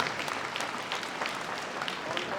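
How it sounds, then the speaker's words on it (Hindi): Applause from an audience at a Kotdwar public event as a boy runs up to the mic, a steady, fairly quiet patter of clapping lasting a couple of seconds. "एक बार जोरदार तालियां इसके लिए।"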